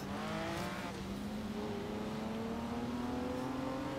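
A Lamborghini SUV in Forza Horizon 3 runs at full throttle, a steady loud engine drone whose pitch climbs slowly and evenly over the whole stretch without a break.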